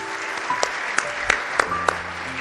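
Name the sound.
church congregation applauding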